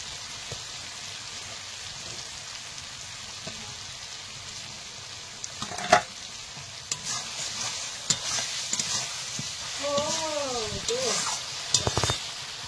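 Spiced masala with tomatoes sizzles and fries steadily in a pan for chicken curry, with scraping stirs and a few louder clatters toward the end over a continuous hiss.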